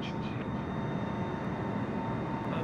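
Steady droning roar of a Boeing airliner's engines in Microsoft Flight Simulator, a continuous broadband rumble with a faint high whine, unbroken for the whole stretch.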